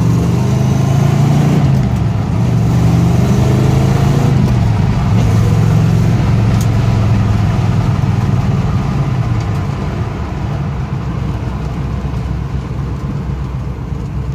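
A 1970 Pontiac Trans Am Ram Air III idles close by with a steady, loud, low rumble. The tone dips slightly near the start and then settles into an even drone.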